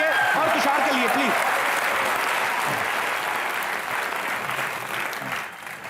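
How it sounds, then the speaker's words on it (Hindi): A studio audience at a comedy show applauds loudly, dense clapping that starts strong with a host's voice briefly over it, then gradually thins and fades out. "जोरदार तालियां जीतू जी के लिए और तुषार के लिए प्लीज।"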